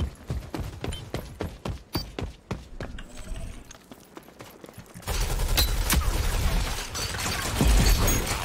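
A light machine gun fires in the shooter Rogue Company, rapid evenly spaced close shots for about five seconds, then a denser roar of sustained gunfire and rumble takes over.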